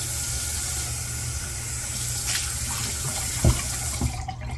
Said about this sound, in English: So getting that brush wet a little bit.